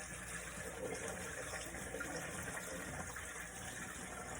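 Water runs steadily into a humidifier box for a mushroom grow tent, a continuous close splashing gush with no break and no talk.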